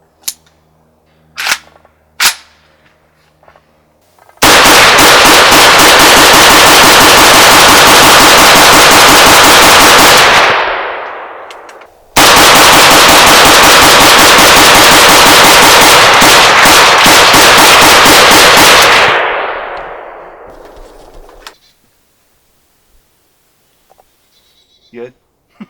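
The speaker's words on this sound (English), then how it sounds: "So what we're going to do is run 60 quick rounds to this, thanks to Magpul coupler right here." A C39V2 rifle with a Magpul coupler fires rapidly in two long, loud, sustained strings, each fading into echo, set between a few isolated shots before and after.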